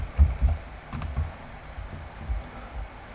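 Soft typing on a computer keyboard, a quick irregular run of light muffled key taps close by over faint background hum.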